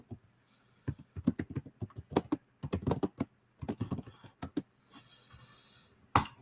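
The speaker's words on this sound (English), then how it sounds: "Just typing up this." Someone types on a computer keyboard in quick irregular bursts of clicking keystrokes, close and fairly quiet, with brief pauses between runs and no talk.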